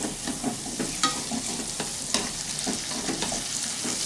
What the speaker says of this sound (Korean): 이렇게 버터를 많이 넣어서 하시면 고소하니까 이렇게 많이 넣으셔도 돼요. 이렇게 해서 볶아주겠습니다.